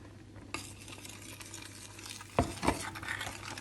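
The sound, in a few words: stirring flour into boiling milk and butter in pot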